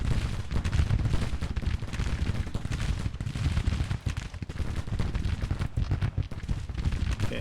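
Relentless musket volleys mixed with heavy artillery blasts from a battle in the strategy game Grand Tactician, a loud, dense crackle of overlapping shots that barely lets up throughout.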